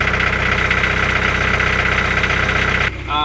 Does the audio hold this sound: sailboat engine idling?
yes